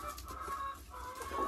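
Laying hens clucking inside a henhouse, soft overlapping clucks and murmurs close by over a steady low hum.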